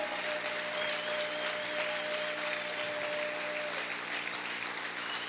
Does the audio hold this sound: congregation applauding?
yes